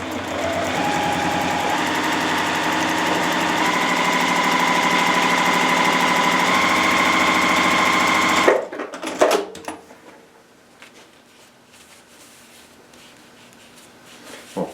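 A sewing machine runs steadily, stitching a paper-pieced quilt block for a star quilt's outer border, a continuous motor whir for about eight seconds before stopping, followed by faint handling noises.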